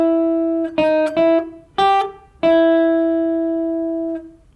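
A jazz guitar lesson demonstrates a melody played with straight, even eighth notes: about five clear plucked guitar notes ring out alone at moderate loudness, with the final note left to sustain and fade.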